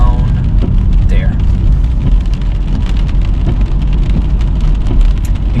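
Heavy rain drums on a car moving through a village in poor weather, with steady road and engine rumble underneath.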